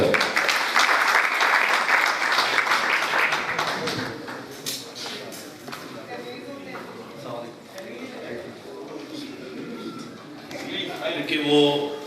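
Audience at a mushaira and oath ceremony clapping loudly at first, the applause thinning out after a few seconds while a voice and scattered sounds continue faintly beneath.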